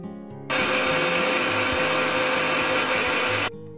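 A mixer grinder whirs loudly and steadily for about three seconds while grinding tomato and spices into a fine paste for a rohu fish curry with potato and cauliflower, starting and stopping abruptly, with no talking.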